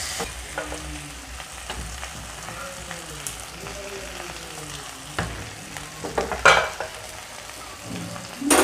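Pieces of shankar fish sautéed in a spicy gravy in a pan give a continuous crackling sizzle, punctuated by spatula scrapes and stirring clatters that grow louder near the end.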